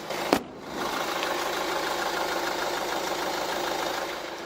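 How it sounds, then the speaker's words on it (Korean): Steady, close diesel clatter from a Kia Sportage R 2.0 diesel idling, holding an even drone after a brief knock at the start. "이 정도의 엔진 소음 만나보실 수가 있습니다"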